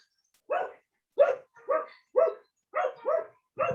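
A dog barks repeatedly, seven sharp barks in a fairly regular rhythm, fairly close and alone against a quiet background.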